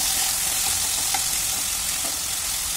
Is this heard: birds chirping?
no